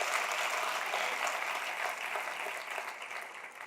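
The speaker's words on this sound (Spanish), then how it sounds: "Denle un aplauso al Rey bendito." A church congregation applauds during a Spanish-language sermon, a steady wash of many hands clapping at moderate distance that thins slightly toward the end.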